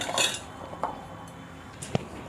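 A few light clinks and taps of raw green mango pieces dropping into a metal pressure cooker container, quiet and sparse, with no talking.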